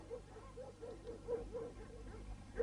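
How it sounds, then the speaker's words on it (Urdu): Dogs bark in a quick rhythmic series at a moderate distance, fairly faint over low background ambience. "یہ زندہ کتے ہیں جو بھونک"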